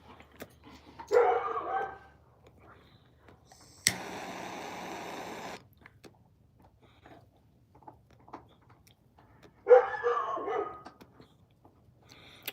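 Dogs bark during a livestream, with two short bursts of muffled barking a few seconds apart. Between them comes a steady, hissy noise, over an otherwise quiet background.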